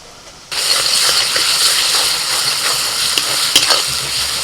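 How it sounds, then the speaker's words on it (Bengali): Chopped onion and garlic paste fry in hot oil with sugar and cloves. After a short quiet start the sizzle bursts in loudly and holds steady, with a couple of small metallic clinks from stirring. "রসুনের কাঁচা গন্ধটা চলে যাওয়া পর্যন্ত পেঁয়াজের সাথে ভেজে নেব"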